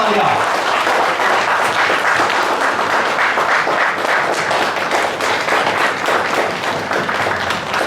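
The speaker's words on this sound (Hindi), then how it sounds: "प्लीज जोरदार तालियां" Loud, dense applause from a large audience at a motivational talk by Dr Santosh Parab, steady clapping filling the room from start to finish with a few voices mixed in.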